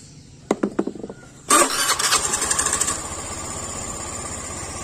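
Honda Beat FI scooter engine during an idle adjustment, a few clicks and taps followed by a sudden start into a buzzing, slightly high idle that settles into a steady putter, close by with no speech.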